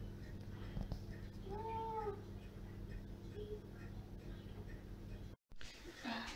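A cat meows a couple of times over a steady low hum, with faint room noise and a brief cutoff near the end.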